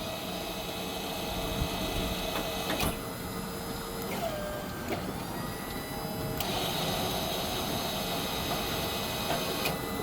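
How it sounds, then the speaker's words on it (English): Hydraulic winch and boom extension on a 2011 Ford F-450 IMT crane truck, a steady mechanical whirring hum with occasional clicks and shifts in tone, moderately close. "We'll winch back down, and extension out. So it all operates nice and smooth."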